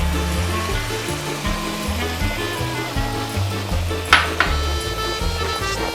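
Pasta water dumped into a pan of vegan bagna cauda pasta makes a steady, close splashing pour, with a couple of brief clinks from the pan toward the end and no voices.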